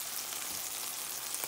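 Hot birria broth pops and sizzles steadily in a pan as tacos fry, a close, continuous crackle with a few sharper spits and no talking.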